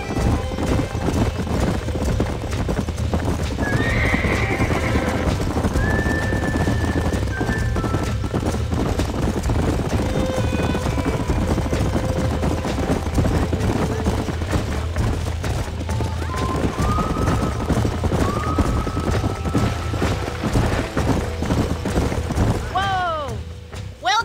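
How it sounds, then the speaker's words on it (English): Horses in the video game Red Dead Redemption clip-clop steadily at close range and give a couple of whinnies, with game ambience and music running throughout. "These are fine horses."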